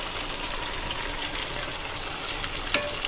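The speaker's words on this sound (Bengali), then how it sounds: "চিকেনটা দিয়ে সব উপকরণগুলোর সাথে মানে দইয়ের সাথে এবং যে মশলাগুলোর সাথে ভালোভাবে মিশিয়ে নেব" Fried chicken being stirred into a yogurt and spice mixture in a pan, a steady, moderate sizzle with a few light utensil scrapes and a sharp clink near the end.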